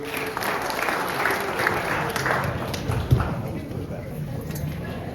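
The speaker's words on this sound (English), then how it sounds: "give yourself a round of applause" A talk audience claps for themselves, a moderate, fairly steady patter of many hands with a voice and a few thumps mixed in, fading slightly toward the end.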